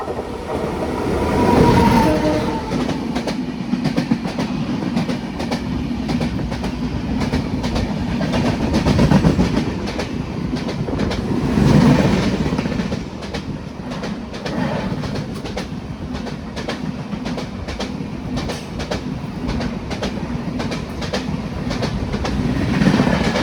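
An express train runs steadily along the tracks, likely overtaken from a sleeper-class coach, its wheels beating a loud rhythmic clickety-clack that swells and eases over a continuous rumble.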